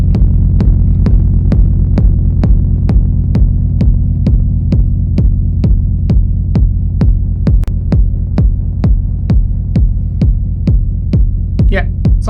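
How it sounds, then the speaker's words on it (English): A techno jam on an Elektron Analog Rytm drum machine with delay: a loud, deep, rumbling kick pounds at a steady, even pulse, with sharp ticks on each beat and a brief fluttering echo near the end. "So now I'm gonna bring back the delay."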